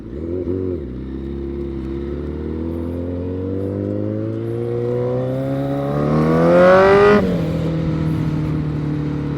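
A 1000cc motorcycle engine revs up through a long, rising climb to a loud peak, then drops back abruptly to a steady idle, close and alone with no talk.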